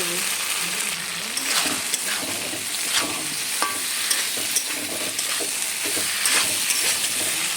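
Soybean chunks go into spice paste frying in oil, giving a steady close sizzle broken by stirring scrapes and small clinks.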